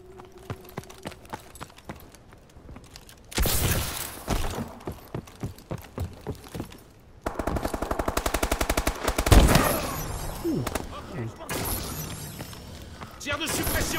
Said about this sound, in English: Tire de suppression, je recharge.